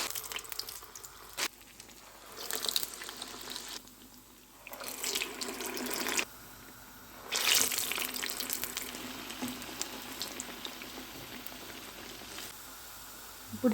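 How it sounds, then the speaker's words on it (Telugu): Urad dal vadas frying in hot oil, intermittent bursts of bubbling sizzle rising and falling over several seconds, fairly close, with no talking. "ఇప్పుడు స్టవ్ని సిమ్ మీద పెట్టి రెండు వైపులా గోల్డెన్ కలర్ వచ్చే వరకు బాగా వేయించుకోవాలి."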